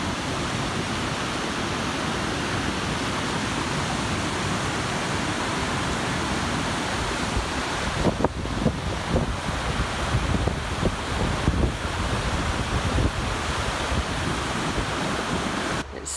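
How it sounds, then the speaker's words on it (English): Waterfall near Reykjavik, Iceland, a dense continuous roar of falling water filling the whole scene, loud and close with steady broadband rush and some wind buffeting on the microphone, no talk. "This is the waterfall."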